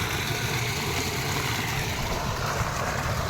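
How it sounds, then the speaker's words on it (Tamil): An irrigation pump set motor runs on a farm, drawing water for the fields: a continuous, even engine drone, fairly close and loud, with no talking over it. "பம்பு செட்டு போட்டு இப்படியே உட்காந்துட்டுக்கிறேன்."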